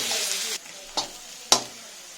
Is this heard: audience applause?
no